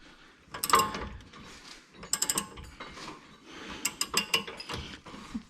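A ratchet clicks while tightening a bolt on a sixth-generation Ford Taurus, with Loctite thread lock on the threads, in several quick bursts of close, sharp metallic clicks separated by short pauses.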